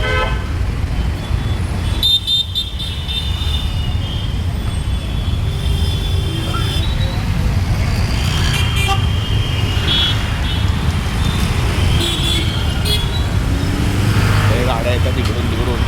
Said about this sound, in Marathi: गाड्या येतात तिकडून तिकडून